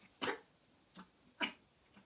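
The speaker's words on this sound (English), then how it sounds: "even the dog's freaking out" Dog giving a few sharp whimpering yelps and barks in separate bursts, fairly faint with quiet gaps between.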